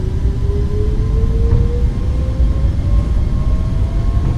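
Boeing 737 MAX 8 jet engines spooling at takeoff power in a flight simulator, a steady loud broadband roar with a rising whine, continuous and close throughout.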